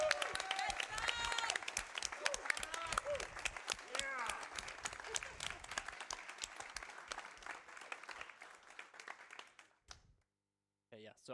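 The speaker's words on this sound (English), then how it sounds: "Can we get a round of applause for Pennek?" Dense applause from a crowd, with laughter and voices mixed in, fades out toward the end, leaving brief quiet and a last clap or two.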